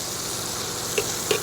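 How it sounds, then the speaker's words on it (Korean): Thin-sliced pork belly sizzles steadily in a hot pan as it is turned over, a continuous close frying hiss with two brief louder spatters near the end. "또 삼겹살 한번 디비주고"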